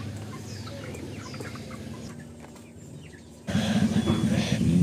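Chickens being loaded for transport by motorbike cluck and squawk in a dense, steady flurry, growing louder and busier toward the end.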